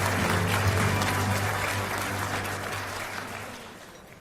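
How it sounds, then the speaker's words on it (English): Audience applause welcoming the President of South Korea at a privacy conference in Seoul: steady, dense clapping from a large hall crowd, fading gradually toward the end. "please welcome him with a big round of applause."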